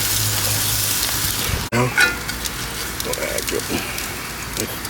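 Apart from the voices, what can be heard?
butter melting and sizzling on a gas grill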